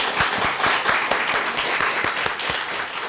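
A church congregation claps together during a Sunday worship service, a dense, steady round of applause with sharp individual claps standing out, continuing without a break for a few seconds.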